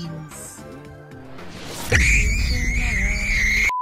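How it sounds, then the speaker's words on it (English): Inside the VRChat game, a person lets out a single loud, strained scream as hard as possible. It follows a stretch of talk and background sound, holds for nearly two seconds and cuts off abruptly. "scream it as loud as possible"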